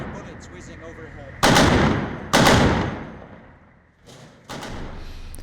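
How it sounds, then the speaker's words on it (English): Gunfire during fighting with ISIS militants in Mosul: two loud, sharp bursts close together, each decaying slowly with echo, then two softer shots farther off, with no talk. "I can hear the sound of their bullets whizzing overhead."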